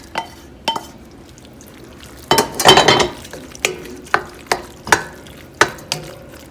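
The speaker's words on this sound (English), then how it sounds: "put it back in the big pan and simply mix it with the ragù sauce" Drained pasta being mixed with ragù sauce in a big pan, heard as a series of wet, squelching stirs and scrapes with distinct pauses between them, close and fairly loud.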